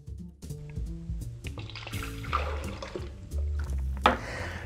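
Malibu coconut rum is poured into a measure, heard as close, faint gurgling and trickling liquid with a few small clinks, no voices.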